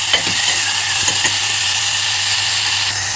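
Tomatoes and onions cook in a pan, a loud steady sizzle and hiss with faint scraping stirs across the whole stretch, no voices.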